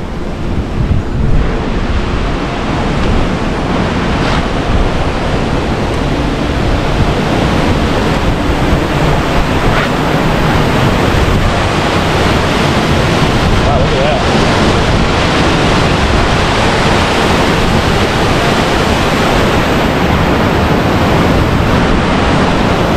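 Water pours over the dam spillway at Ericson Lake, Nebraska, a loud, continuous broadband rush heard up close, with gusts of wind buffeting the microphone.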